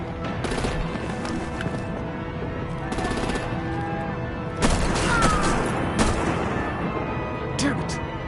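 Machine-gun bursts and heavy artillery fire in the video game Telltale Batman, loud dense volleys with several sharper booms breaking through, voices shouting over the din.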